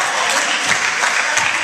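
Basketball fans cheer and clap in an indoor arena, a dense, loud wash of crowd noise with applause that stays steady throughout.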